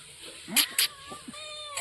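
A small kitten meows several times close by, with two sharper high cries followed by softer mewing over a quiet room background.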